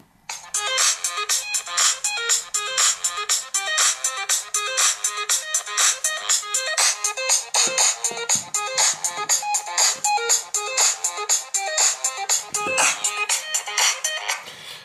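Ringtone music from a Microsoft Lumia 435 or 532 phone speaker at maximum volume, a bright, thin-sounding tune of rapid repeated notes playing steadily throughout, alone and without talk.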